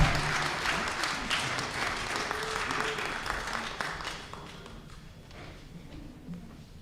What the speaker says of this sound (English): let's give them a closing round of applause as well